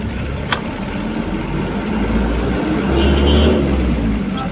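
Road traffic on a city drive between Quezon City and Makati: a steady engine rumble with a car revving and accelerating close by, swelling louder toward the end, plus a brief sharp noise near the start.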